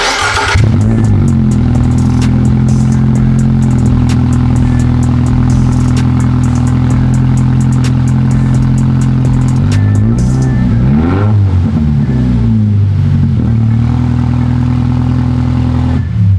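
Toyota GR86 engine running loud with the exhaust removed, a steady raw drone with sharp revs rising and falling near the end, close and unbroken for the whole stretch.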